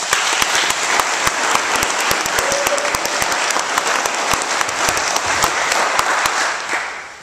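A church congregation at an ordination ceremony bursts into sustained applause, a dense, loud wash of many hands clapping that holds steady before fading at the end.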